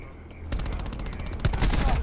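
Rapid video game gunfire from a sniper's nest in an online shooter, dense bursts of automatic shots that start abruptly and keep rattling, growing louder toward the end, with a voice talking over them.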